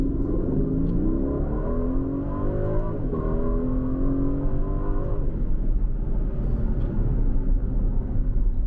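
An Aston Martin Vantage F1 Edition with an English exhaust fitted revs and pulls through the gears, a loud, close engine note that climbs, drops at each shift and climbs again in a continuous rumbling drone.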